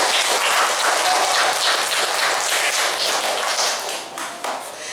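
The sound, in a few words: applause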